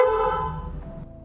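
A Yamaha NMAX Turbo motorcycle horn fitted with an aftermarket light setup sounds one steady, loud, close blast that holds its pitch, then fades slightly over a little over a second.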